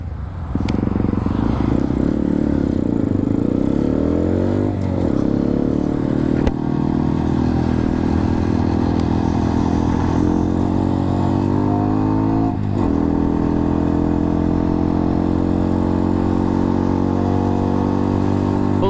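A motorcycle with a high-mount exhaust runs steadily while being ridden, its engine drone loud and continuous throughout, with slight shifts in pitch as the revs change.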